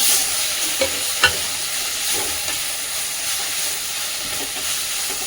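Tomatoes sauté in a pan on a home stove, a steady close sizzle with a few sharp spatula scrapes and knocks early on, no voices.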